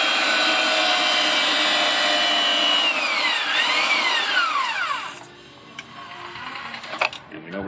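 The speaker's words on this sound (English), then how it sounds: "And you'll hear the machine start to wind down." A pipe threading machine, after threading steel pipe, whines loudly and evenly, then its pitch sweeps downward as it winds down and fades into quieter shop background with a few faint clicks.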